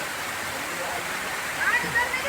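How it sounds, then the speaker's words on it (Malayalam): A small waterfall pours down from the forest above in the Mahabaleshwar hills. It makes a steady, close, full rushing roar throughout, with a faint voice briefly over it near the end. "ഈ കാടിൻ്റെ മുകളിൽ നിന്നാണ് ഈ വെള്ളച്ചാട്ടം ഒഴുകി വരുന്നത്"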